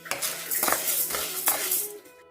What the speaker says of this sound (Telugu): నెక్స్ట్ కందిపప్పు కూడా వేపేస్తున్నానండి.